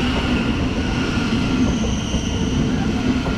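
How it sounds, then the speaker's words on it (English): A Class 700 electric train pulls into Luton station, its loud, continuous rumble and rail roar filling the platform with a steady hum and faint high whine throughout, no voices. "arriving in now is 700-122."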